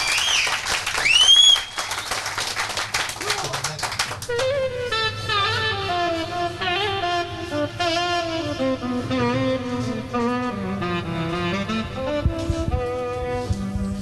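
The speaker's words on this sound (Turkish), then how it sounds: "Alkışlayalım hep beraber." A studio audience claps loudly for a few seconds as a saz player is introduced, then the applause fades under sustained, melodic plucked-string music that carries on alone.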